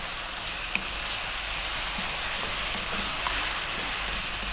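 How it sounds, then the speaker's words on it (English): Fennel and fresh chili fry in a pan, making a steady soft sizzle with faint scraping and clinks as they are stirred; no voices. "Let's give this a quick little mix."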